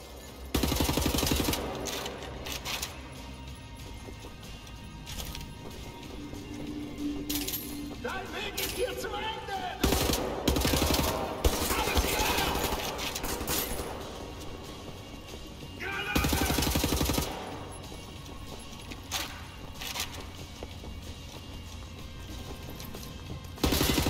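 Machine gun bursts from a Wolfenstein: The New Order shootout come in repeated loud volleys with scattered clinks, while someone talks over much of the fighting.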